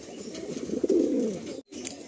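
Big male Kathigarda pigeon just off breeding in a Kolkata loft, giving a continuous low throaty coo that builds to a stronger phrase, breaks off abruptly, then briefly resumes, close and clear without speech.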